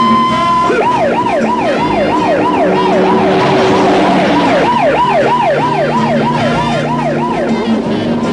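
A cartoon police car siren wails in repeated rising-and-falling sweeps, loud and close, pausing briefly midway before resuming over a low engine drone, with no talking.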